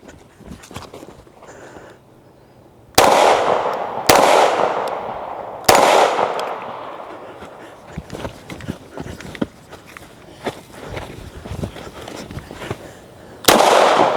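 Hi-Point C9 pistol fired at a target, a few sharp loud cracks spaced seconds apart with softer clattering and ambient noise between them, no talk.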